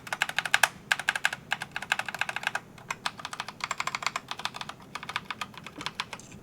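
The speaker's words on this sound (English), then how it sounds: "I did get the brown switch, so if I open that, yeah, it's a brown switch. It's more of a tactile switch" Steady typing on a Logitech G PRO X TKL wireless gaming keyboard fitted with brown tactile switches, close and clear, with fast bursts of keystrokes and brief pauses between runs.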